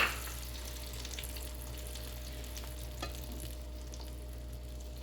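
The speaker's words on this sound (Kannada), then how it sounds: "ಈಗ ಈ ಮಿಕ್ಸ್ ಮಾಡಿರೋಂಥ ಆಮ್ಲೆಟ್ ಮಿಕ್ಸ್ಚರ್ ಇದಕ್ಕೆ ಹಾಕಿ ಸ್ಪ್ರೆಡ್ ಮಾಡೋಣ." Beaten egg omelette mixture with vegetables meets a hot pan, giving a steady, close sizzle that holds evenly with no talking.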